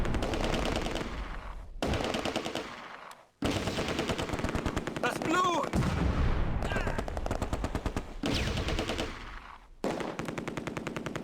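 Sustained machine gun and rifle fire in a Close Combat World War II battle at Oosterbeek, with guns firing high explosive at infantry: loud, dense bursts rattling almost continuously, broken by a few short pauses.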